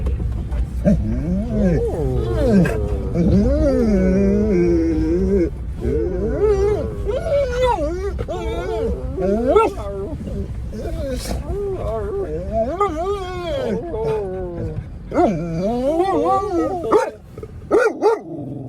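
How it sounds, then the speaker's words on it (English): A dog whining, yelping and barking excitedly at close range inside a vehicle, near-continuous high whimpers and sharp barks mixed with a person talking over it. "You have no reason to bark at anybody."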